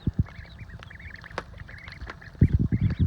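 Ducklings eating mealworms give repeated high, soft peeping quacks, close up and overlapping, with bursts of splashing and pecking noises at the start and end.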